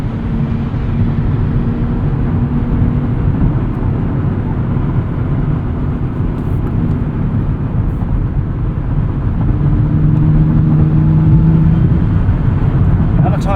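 Interior of a 2023 Nissan Z with its turbo engine pulling under acceleration, a steady loud low drone with rising tonal whine, continuous throughout with no talk over it.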